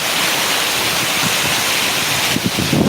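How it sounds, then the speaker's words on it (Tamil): Heavy rain driven by strong wind, a dense continuous roar of downpour and gusts filling the space, loud and unbroken with slight swells near the end. "செம மழை நண்பா இது செமையாக வச்சு எதிர்பார்க்காத சமயத்தில் மழை சரியான மழை நண்பா"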